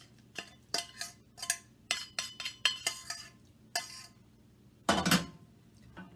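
Stovetop stuffing mix being broken down and stirred in a pan, a series of close, irregular metallic clinks and scrapes, with a louder cluster of knocks near the end.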